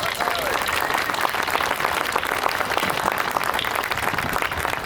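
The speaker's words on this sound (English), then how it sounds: "Let's give them all a big round of applause" Crowd at a civic center grand opening giving a big round of applause for library personnel, volunteers and city staff, dense and continuous with faint voices mixed in.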